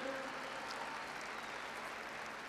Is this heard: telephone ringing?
no